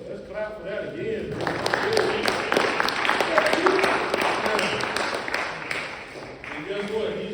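A crowd at a high school gathering claps together in a dense, steady burst that swells and then thins out, with voices around the edges.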